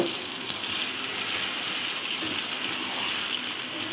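Chicken frying with browned onions in a pan makes a steady, close, even sizzle and hiss, like light rain, running unbroken with no voices.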